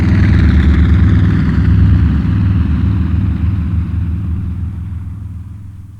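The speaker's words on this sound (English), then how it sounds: "many people have flown on package holidays and so on in the Viking" Piston engines of a Vickers Viking airliner drone with a deep, rumbling roar. The sound is loud at first and fades slowly as the aircraft draws away, with no voices over it.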